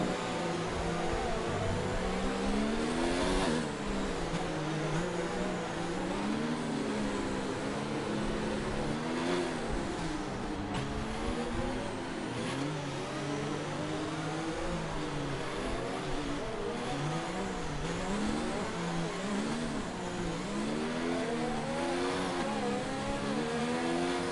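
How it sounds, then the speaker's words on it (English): Formula 1 cars in the F1 2019 video game roll toward the starting grid at the Russian GP. Several engines drone and rev together for the whole stretch with a continuous, fairly loud hum, and no one speaks over it. "Alright, so the cars are now approaching the grid."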